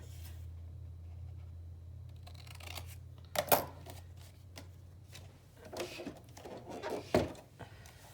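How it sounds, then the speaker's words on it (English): Paper being cut for a journal pocket, with a few sharp snips and rustles scattered over a quiet low hum, close and fairly soft. "Cut that piece for a pocket."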